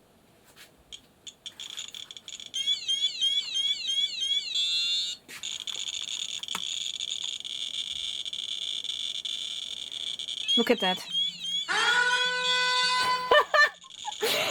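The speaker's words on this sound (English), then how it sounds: "Now the app is making an alarm sound too" A radiation detector phone app sounds an electronic alarm in a home basement: warbling, pulsing high tones come in bursts and sustained stretches, with a short exclaimed remark and some excited talk alongside.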